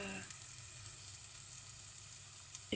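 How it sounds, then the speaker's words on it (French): Amaranth and quinoa sautéing in a pan give a steady, close sizzle that runs unbroken for a few seconds, with a brief clatter near the end. "Et je fais amarante et quinoa. Là je fais un peu revenir"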